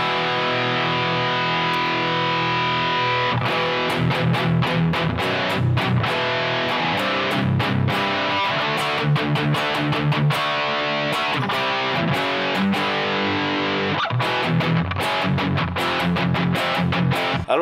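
Electric guitar played through a T-Rex Mean Machine distortion pedal with gain at maximum, heavily saturated sustained chords and riffs with rhythmic palm-muted chugs and choppy stops, loud and alone.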